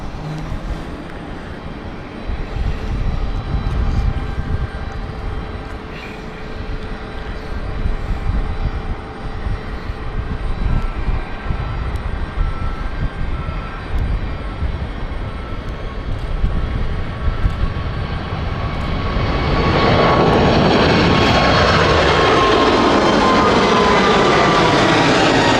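An airliner on the Zurich flight approaches London City Airport, its engine noise building from a distant rumble into a loud, close roar with a rising whine near the end.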